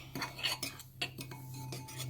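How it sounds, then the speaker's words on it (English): A spoon stirs garlic and onion powder seasonings together in a pan, giving a series of light metallic scrapes and clinks in an irregular rhythm, close and clear with no talking. "Stir that together."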